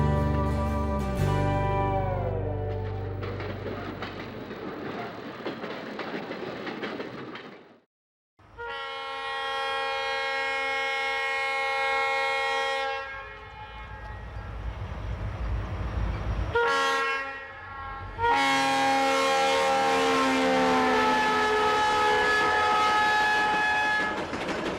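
Old B&O locomotives labor up a steep grade with a loud, droning roar rich in tonal harmonics, rising and shifting in surges and briefly dropping away between passes.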